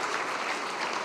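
Dense, steady applause from a church congregation at a Korean New Year's Eve service, a loud continuous wash of many hands clapping together for about a second, with no talk over it.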